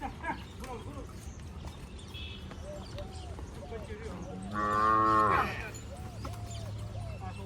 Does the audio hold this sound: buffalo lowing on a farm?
yes